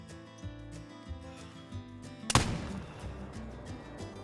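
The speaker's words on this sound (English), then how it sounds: "So let's use this muzzle loader once again." A single loud muzzleloader rifle shot fired at a bear in theHunter: Call of the Wild, Alaska setting, a sharp blast midway with a short rumbling tail, over quiet game ambience and music.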